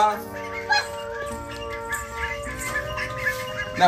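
Ducks at a home in rural Tamil Nadu, a few nasal quacks and honks near and moderately loud, with people talking around them.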